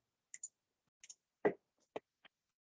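Sharp, isolated mouse clicks in a quiet room while navigating software menus, about seven dry taps spaced irregularly over a few seconds.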